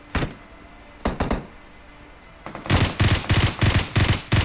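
Gunfire in a battle royale video game: a lone shot, then a quick triple burst, then a sustained run of six or so loud, evenly spaced automatic bursts, with no talking.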